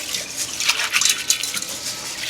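Peas being washed in a bowl of water, with steady sloshing and light splashing and a few small drips, close and fairly loud with no talking.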